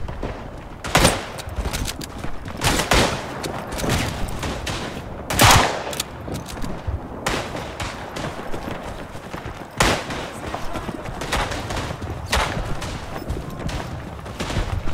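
Repeated rifle shots crack out across a battlefield in the WWI shooter Tannenberg, Baltic front with Cossacks, some close and loud, others farther off, firing in irregular bursts throughout with faint talk in the mix.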